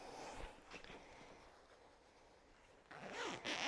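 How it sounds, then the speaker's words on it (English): A zipper on a pillow sham is pulled closed in a few quick rasping bursts, close by and moderately loud, with quieter rustling of bedding in between. "Oh, I definitely need to zip this up,"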